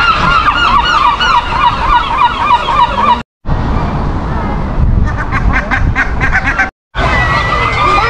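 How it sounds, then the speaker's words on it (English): Flock of flamingos at Blackpool Zoo honking loudly and repeatedly in a dense, overlapping chorus of nasal calls, close by, with short breaks in the sound. "the noisy flamingos"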